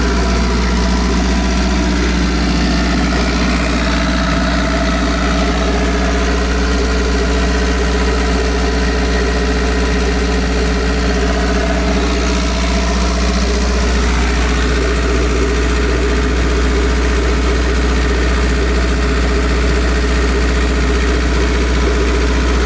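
A Honda Accord CB9 wagon engine fitted with a new crankshaft idles loud and steady nearby, a constant low hum with a smooth, even drone and no talking.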